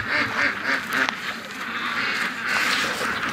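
Pet ducks being raised for charity quack in quick, rhythmic bursts close by, the nasal calls repeating and overlapping in a busy flock clamor.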